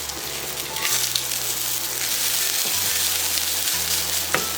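Crispy chow mein noodles fry in hot oil for liang mian huang, giving a steady, loud sizzle and crackle throughout with a low hum underneath.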